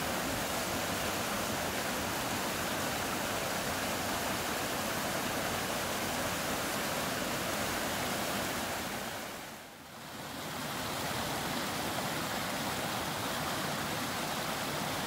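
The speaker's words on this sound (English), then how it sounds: "We next made our way up this roaring mountain stream" A roaring mountain stream near Mount Ascutney, Vermont rushes past as a dense, steady broadband roar of running water, loud and continuous, briefly dipping midway before resuming.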